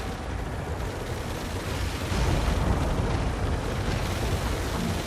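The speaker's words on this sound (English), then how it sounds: "Explosions inside the refinery compound." Heavy, rumbling explosions tear through a refinery compound in the Tom Clancy's EndWar video game, a loud continuous barrage of blasts and crackling debris that swells even louder partway through.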